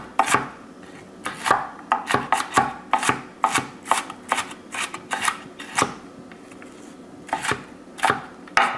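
An onion is chopped on a cutting board with a knife, giving a quick, uneven run of sharp close taps, sometimes clustered and sometimes spaced apart. No voices are heard.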